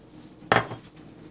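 A single scraping clatter of a spoon in a pan as almonds, cashews and raisins are stirred together, brief and fairly soft against quiet room tone.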